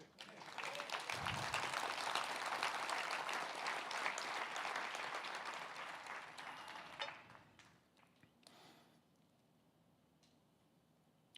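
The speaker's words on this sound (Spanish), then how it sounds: "Le ponen una ofrenda de palmas al Señor." A church congregation claps together as an offering to the Lord during a prophetic school service, a dense, sustained wash of applause that tapers off after about seven seconds into near quiet.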